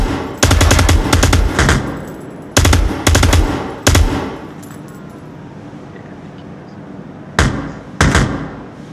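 Automatic gunfire in the virtual reality shooter game Onward, several loud close bursts of rapid shots, two tight clusters early, one short burst near the middle, then two more separated by quiet.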